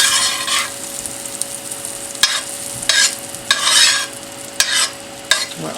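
Food browns in a frying pan with a steady sizzle, broken by several bursts of stirring and scraping at irregular intervals, close and alone with no talking.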